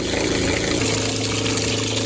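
An RV water pump runs steadily at close range with a continuous motor hum and a liquid rush, its pitch dropping slightly partway through. The RV is being repaired for a water leak after poor winterization, and there is no talking.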